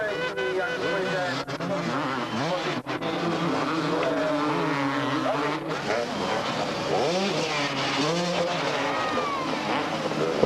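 Motocross motorcycles race at a 1995 250cc Grand Prix in Gdynia, Poland, with a Suzuki leading. Engines whine and rise steadily and loudly throughout, while a commentator talks over them the whole time.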